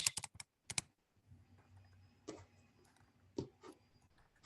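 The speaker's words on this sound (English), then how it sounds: "I could type it in and that would be the same thing" Quiet bursts of computer keyboard typing, a quick cluster of key clicks at the start followed by a few sparse taps over a faint background hum, close but soft.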